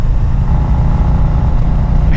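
A 2017 Harley-Davidson Road King Special under way, its engine giving a steady low rumble that is loud and close, with wind noise and no talk.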